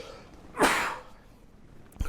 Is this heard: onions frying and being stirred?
no